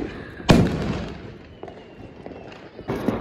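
Diwali firecrackers go off outdoors: one loud sharp bang, then smaller cracks and pops a few seconds later, without any talk.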